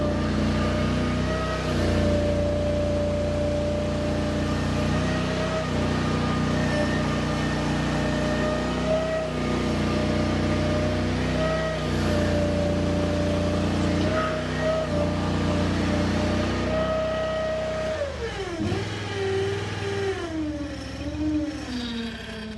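A Derette DRT450 mini skid steer's engine runs steadily and loudly throughout at full RPM, a dense mechanical drone with a sharp pitch shift near the end as the load changes.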